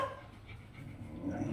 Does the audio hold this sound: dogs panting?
yes